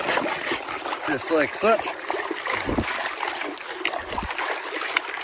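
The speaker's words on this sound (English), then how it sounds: "So we'll go ahead and we'll try to pan that one out," Water sloshes and splashes steadily as gravel holding quartz is panned for gold in a creek, close and continuous, with someone talking over it.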